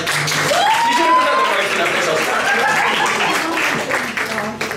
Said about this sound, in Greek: Ένα χειροκρότημα για όλους αυτούς εκεί, παιδιά.